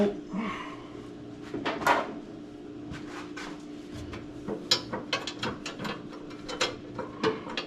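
A hand ratchet tightens a bolt on a battery tray bracket of a 1969 Dodge Charger, a close series of quick clicking bursts at an uneven rhythm, loud and mostly alone with faint background noise.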